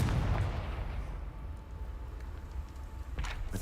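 A Confringo blasting spell in the video game Hogwarts Legacy, one heavy booming blast at the start that rumbles and decays slowly, followed by low ambient game hum and a faint second thump near the end.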